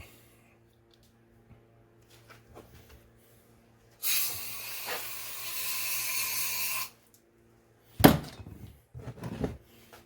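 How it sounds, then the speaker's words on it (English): A steady hissing spray from an aerosol can of brake cleaner on a 1978 Suzuki GS1000 motorcycle lasts about three seconds, followed by a second short burst and some light handling noises. "So I'm going to take some brake clean. Spray her in there."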